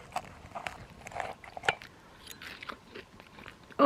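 Close, crisp crunching bites and chewing of a freshly cooked dish with a mix of crunchy and tender textures, coming in irregular bursts with no talking.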